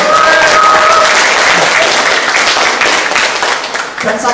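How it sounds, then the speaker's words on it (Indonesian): A stand-up comedy crowd applauds loudly and densely, with cheering and a few voices mixed in; the clapping holds steady for about four seconds and then starts to fade. "Tepuk tangan dulu dong buat kalian."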